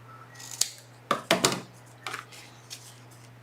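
Scissors snip through paper while trimming pieces for a mini album, several sharp, close cuts in quick succession followed by a couple of softer snips.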